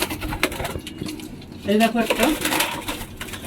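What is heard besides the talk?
pigeon being held, fluttering and cooing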